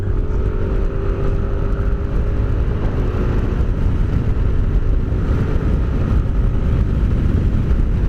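A Yamaha NMAX V2.2 scooter engine during soft break-in, heard close and loud as a continuous droning rev with steady intensity, no talking over it.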